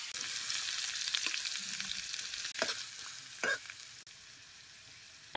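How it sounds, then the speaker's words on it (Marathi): Chopped onion hits hot oil already tempered with crackling cumin and mustard seeds, sizzling steadily and loudly for several seconds, with a few sharper spatters and stirring scrapes. "आता हे चिरलेला कांदा आहे तेलात टाकायचा."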